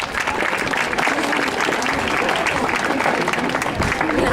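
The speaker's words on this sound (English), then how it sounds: "So give yourselves a round of applause." Steady, dense audience applause fills a fashion show venue, loud and continuous throughout with crowd noise blended in.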